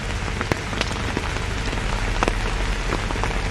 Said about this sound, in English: Well, there's no respite yet from heavy rains, Veera Raghav. Even as we speak, it's pouring.